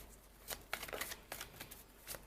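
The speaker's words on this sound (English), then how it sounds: "So let's do some shuffling." Tarot cards being shuffled by hand, a run of soft papery riffles and flicks in uneven bursts, close and fairly quiet with no talking.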